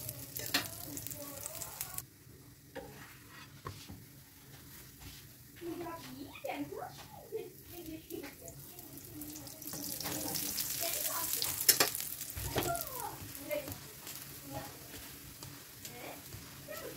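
A masala laccha paratha sizzles and fries in ghee on a hot pan, with a steady soft crackle and occasional scraping under a speaking voice.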